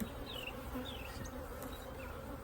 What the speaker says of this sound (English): they're coming up and covering the bars while I'm working